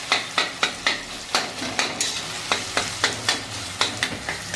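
Softened onion and tomato are stirred and mashed in a pan for a Maharashtrian chickpea usal, a rhythmic series of sharp spoon knocks and scrapes, about a dozen strokes over a low sizzle, no speech.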